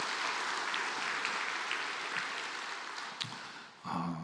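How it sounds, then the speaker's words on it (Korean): A church congregation claps during a Sunday worship service, a steady wash of applause that fades near the end before a voice comes in. "감사의 박수 해주시겠습니다."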